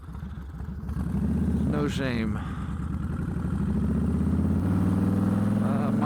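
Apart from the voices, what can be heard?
2006 Harley Heritage Softail Classic motorcycle engine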